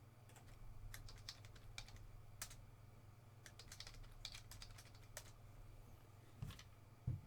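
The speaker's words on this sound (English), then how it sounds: "let me type in the hits here" Steady, soft clicking of keys on a computer keyboard, typed in short irregular bursts at close range over a constant low electrical hum, with no talking.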